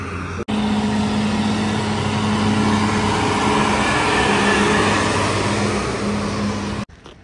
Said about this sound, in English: We're just driving with the GT4 RS, finding good roads.